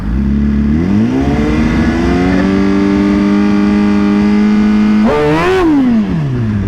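An unrestricted 2020 Suzuki GSX-R1000 motorcycle revs up at a drag strip, holding a steady high-pitched whine at launch rpm. A sudden sharp rev spike follows, then the engine note falls away. The sound is close and loud.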